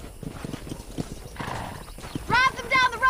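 Horse hooves clip-clopping as a rider herds cattle in the video game Red Dead Redemption, with a horse whinny rising near the end and voices talking over the sounds.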